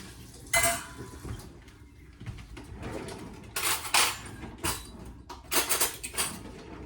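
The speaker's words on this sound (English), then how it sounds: "I got a fork to just mix this up" Fork clinking and scraping against a bowl while mixing ingredients, a series of irregular metallic taps and short scrapes in quick bursts, moderately close with no talk.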